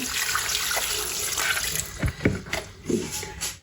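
About 1.5 litres of water poured into a cooking pot holding mustard greens and spinach, a steady splashing stream that breaks into a few gurgles and knocks near the end.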